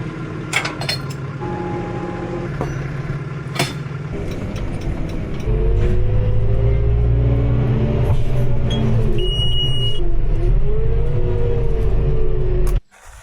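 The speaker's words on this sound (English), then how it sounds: "I think Harvey quite likes that green tractor." A green farm tractor's engine runs steadily during winter barley harvest work, a loud continuous low drone that grows stronger midway and then cuts off abruptly near the end, with no talking.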